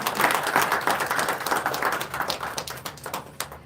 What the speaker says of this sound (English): Can we please get another warm round of applause for Bazoina?